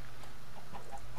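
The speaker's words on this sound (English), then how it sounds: "So once again, we have the chickens that were over in the valley" Chickens clucking in Minecraft, a couple of soft, brief clucks over faint background hum, fairly quiet and without speech.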